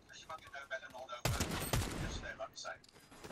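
Automatic gunfire in the Fortnite video game, a sudden loud burst of rapid shots midway through, mixed with game sounds and a voice talking before and after.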